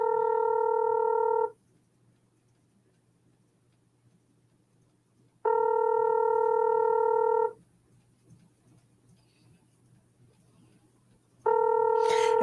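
A phone call rings out while waiting for someone to answer, with three evenly spaced electronic ring bursts separated by long quiet gaps over a low steady hum.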